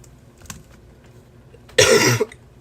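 A single loud harsh cough bursts out close to the microphone after a quiet stretch with faint small clicks, lasting about half a second.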